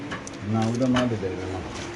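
Low, soft cooing of large pigeons for sale, a rolling murmur close by with faint background noise.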